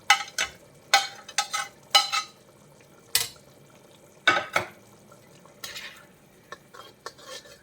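Fried prawns stirred into boiling prawn pickle gravy in a pan, giving a series of sharp spoon-on-pan scrapes and clinks in irregular bursts over a faint bubbling simmer, close and fairly quiet.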